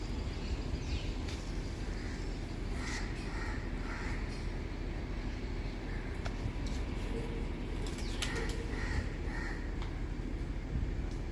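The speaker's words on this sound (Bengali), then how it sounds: "পরিবেশ, চারদিকে পাখি ডাকছে।" Crows cawing and other birds calling around a hotel in Delhi, scattered calls near and farther off over a steady outdoor background hum, with no talking.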